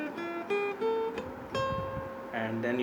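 Guitar notes run through a first-position pentatonic scale, plucked one at a time in a steady ascending sequence, each note clear and ringing, fairly quiet and played alone.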